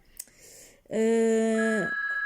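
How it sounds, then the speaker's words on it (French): A phone rings close by with a steady electronic tone lasting just over a second, after a brief click and some quiet shuffling. "il y a le téléphone qui s'est mis à sonner"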